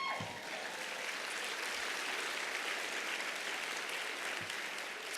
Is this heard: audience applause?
yes